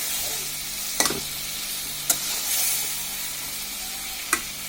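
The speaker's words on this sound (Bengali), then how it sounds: "এখন আমরা বেগুনটাকে ভালোভাবে কষিয়ে নেব।" Eggplant pieces sauté in a pan with a continuous hissing sizzle, broken by a few sharp clacks of a spatula stirring against the pan, close and with no talking.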